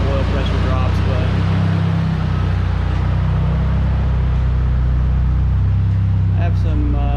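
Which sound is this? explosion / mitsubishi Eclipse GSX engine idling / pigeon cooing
mitsubishi Eclipse GSX engine idling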